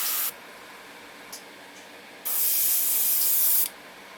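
An airbrush sprays paint onto a 1:72 Aoshima Kawasaki Ki-61-I tei Hien model aircraft: a short hiss, a pause with a faint tick, then a longer steady hissing burst, close and clear with no talking.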